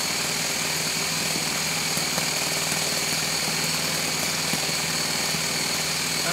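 A small model four-stroke internal combustion engine runs steadily and continuously at close range, giving a constant buzzing drone with a faint rhythmic firing pulse and no breaks.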